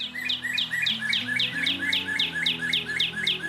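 Songbirds call at the Augusta golf course: a rapid, steady run of bright repeated chirps close by, alone and without speech, over a faint low hum.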